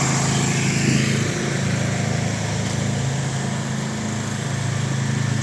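A generator drones steadily in a snowy Lviv market square on a winter morning, its loud engine hum holding constant close by with no pauses.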